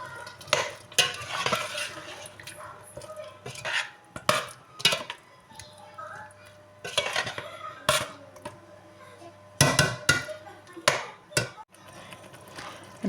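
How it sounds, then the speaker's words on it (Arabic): Tomatoes frying in a pot for a Tunisian vegetable and meat stew, a soft sizzle broken by repeated loud scraping stirs of a utensil against the pot, close up with no talk. "نخلو الطماطم تتقلى شوية"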